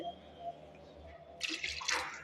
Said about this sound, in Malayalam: ഒരു കുറച്ച് വെള്ളം കൂടി ഒഴിച്ചു കൊടുക്കുന്നുണ്ട്